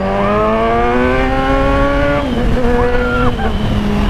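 A Kawasaki Z1000 motorcycle carrying a passenger accelerates hard, its engine note rising loud and close, then dropping briefly at a gear change before climbing again.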